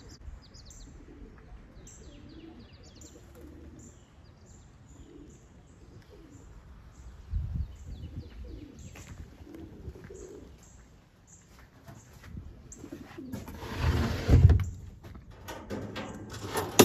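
Flock of white racing pigeons out on a training flight on an overcast day, with soft bird calls and coos over steady outdoor ambience and a louder flutter of passing wings near the end.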